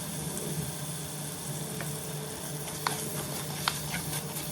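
Green chillies sautéing with salt in a pan make a faint, even sizzle with a few light ticks and pops scattered through it, heard alone without speech.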